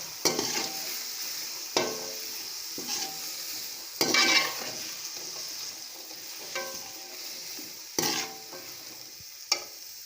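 Tomato paste and green chili being stirred in a pan, several spaced spoon scrapes and knocks over a low sizzle, close and fairly loud.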